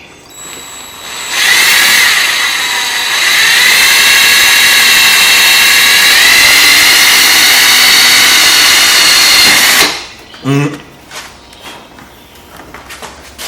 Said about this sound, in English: Why you still drilling?